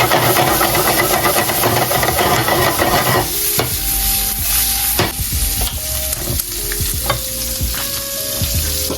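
Sausage fries in a pan with a loud, steady sizzle and hiss, broken by clinks and scraping stirs of a utensil against the pan partway through.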